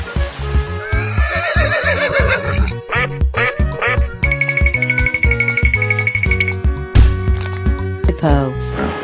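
A horse neighs amid a busy stream of cartoonish animal sound effects and music, the whinny rising and wavering before other layered noises crowd in.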